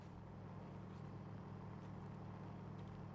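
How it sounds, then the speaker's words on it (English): A faint, steady low video game truck engine drone holds throughout, labouring under load in fourth gear without any change in pitch. "I can hear this truck struggling in fourth gear."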